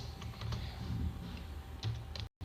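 Typing on a computer keyboard while entering data in MS Excel, with close, steady clicking keystrokes, a few sharper key presses, and a sudden cutoff at the end, without any talk.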